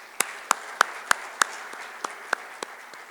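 A few sparse, separate handclaps ring out in a business summit hall, about ten sharp claps spread unevenly over a few seconds with no voices.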